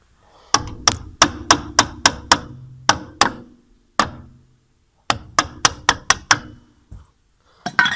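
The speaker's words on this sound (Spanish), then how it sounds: "le está dando con el martillo ahora" Hammer blows ring out against a metal driveshaft being removed from a Honda Civic EG4 gearbox, sharp clanging strikes close by in quick bursts with short pauses between groups.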